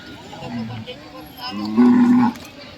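A bull moos at a cattle market in Chalisgaon, two drawn-out bellows, the second louder and fuller, over a busy crowd murmur.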